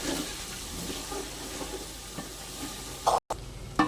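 Ginger, garlic and potato with ground spices stir-fried for khichuri, a steady sizzle with repeated scraping stirs of a spatula in the pan, one brief clatter near the end.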